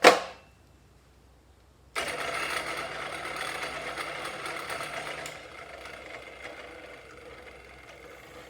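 A drill press fitted with a new motor runs at a lowered speed and rattles, a steady buzzing mechanical chatter that starts abruptly after a brief silence and softens somewhat near the end, following a short sharp knock at the very start.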